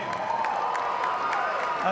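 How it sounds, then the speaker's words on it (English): Crowd applause at a Tie Break Tens mixed doubles tennis exhibition in Indian Wells, a soft, steady wash of clapping from a distant audience, heard under an announcer's amplified voice. "how about a round of applause for that, you guys?"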